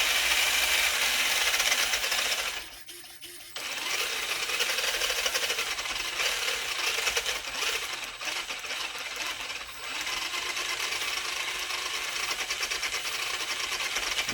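Steering servo on an assembled RC car binding at full steering angle, a continuous close mechanical whir and rattle with a strained buzzing tone and a short dip in level partway through, with no talking.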